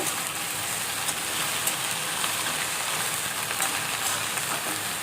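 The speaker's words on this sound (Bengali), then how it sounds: "এবার তেলের ভিতর দিয়ে দেবো ঢ্যাঁড়সটা।" Okra sizzles in hot oil in a home kitchen, a steady, dense crackling hiss with no voices over it.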